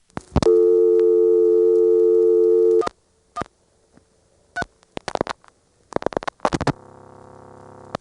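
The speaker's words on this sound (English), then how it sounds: "the phone companies for directory assistance and repair service will very often use the power ringtone as the audible tone" A power ringtone used as the audible ring on an ITT Pentaconta crossbar telephone switch in Asheboro, NC, 1977: one long, steady buzzy tone lasting a couple of seconds, followed by scattered relay clicks, then a second tone starting near the end.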